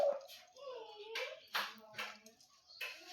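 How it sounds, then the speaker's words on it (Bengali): A dog gives short yipping, whimpering barks in quick bursts at close range, with a person talking over and between the calls. "দেখতেছেন তো কুকুর কীরকম ডাকতেছে"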